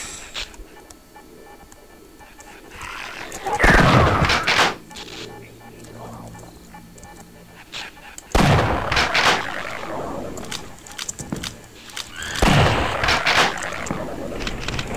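Gunfire in the video game Paranoid comes as three loud, heavy bursts spaced several seconds apart, each with a brief rumbling tail over a low background.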